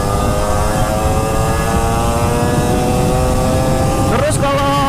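A Yamaha F1ZR two-stroke motorcycle engine buzzes loudly and steadily while riding, with a slight rise in pitch near the end as it revs.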